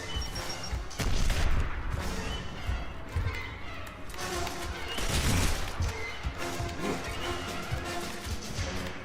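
Frag grenade blast and combat in the shooter Gears of War Ultimate Edition, with heavy booming impacts and crashes rising and falling across the scene amid gunfire and shouted voices.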